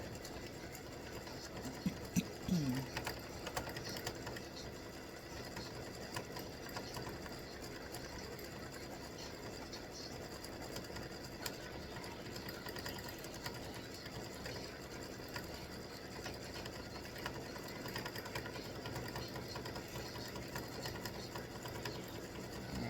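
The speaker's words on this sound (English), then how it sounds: "it's doing the satin stitching on the inside of the heart" An embroidery machine satin-stitches the inside of a freestanding-lace Valentine heart, running in a steady, fast mechanical chatter for the whole stretch with a few brief louder clicks near the start.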